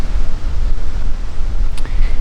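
Wind buffets the microphone outdoors in hilly deer-hunting country as a front moves through, a loud, rough rushing roar that gusts and surges throughout the short stretch.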